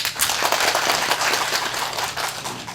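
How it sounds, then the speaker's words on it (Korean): Many hands clap in sustained applause at a candidates' policy debate for the Gwanak-eul National Assembly election, a dense, even patter that fills the room for a few seconds. "박수 한번 보내주십시오"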